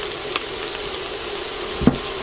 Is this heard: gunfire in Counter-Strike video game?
no